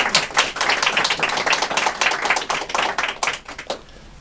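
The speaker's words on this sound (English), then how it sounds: "So a big round of applause for this panel." Scattered clapping from a modest audience greeting a public health and housing panel, individual claps distinct and uneven, close and fairly loud, thinning out and stopping near the end.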